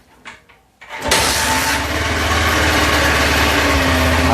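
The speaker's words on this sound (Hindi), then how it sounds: "आप सुन पा रहे होंगे मोटरसाइकिल दोबारा स्टार्ट हो चुकी है" A motorcycle engine cranks briefly after a kill switch repair, then catches and settles into a steady, loud idle close by.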